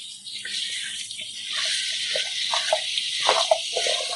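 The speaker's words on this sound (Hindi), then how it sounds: "1 चौथाई कप हम इसमें पानी ऐड कर देंगे।" Quarter cup of water poured into a pan of cooking sweet pumpkin, a steady splashing hiss with small sloshes and clinks, fairly close and alone.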